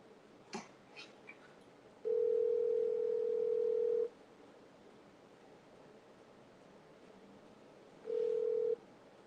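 Ringback tone of an outgoing phone call waiting to be picked up, two long steady electronic rings separated by a pause, loud and clean over a quiet room with a few faint clicks early on.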